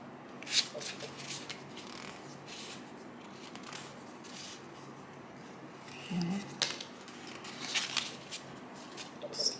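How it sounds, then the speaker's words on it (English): Quiet papery shuffling of tarot cards with soft riffles and taps, close and faint, with a brief murmur of talk partway through. "shuffle"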